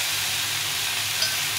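Chopped tomato goes into a pan of frying vegetables for a Bengali mrigal fish curry, giving a steady, even sizzle and hiss that holds level and close throughout with no voices.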